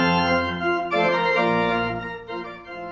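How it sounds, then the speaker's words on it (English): A Davis concert organ with over 6,000 pipes sounds full, sustained chords that swell and shift, rich and resonant, filling a large hall without any talking. "That's the sound of the Davis concert organ,"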